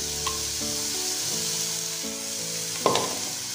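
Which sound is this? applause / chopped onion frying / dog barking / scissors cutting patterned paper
chopped onion frying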